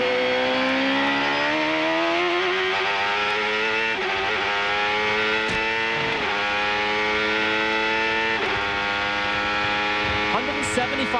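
An IndyCar race car at the 1995 Portland race, its engine note heard as a loud continuous whine that sweeps and steps down in pitch as it downshifts through a fast section, close and sustained throughout.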